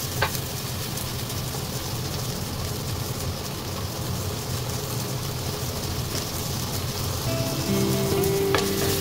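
Onions sautéing in a pan for an adobo of chicken gizzards and liver, a steady close sizzle and hiss that fills the whole stretch, with a faint scrape of stirring near the end.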